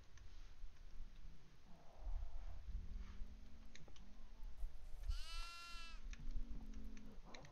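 Sheep bleat in the horror video game Devour, with one loud, wavering cry standing out against a low, murky game ambience and scattered clicks and thuds.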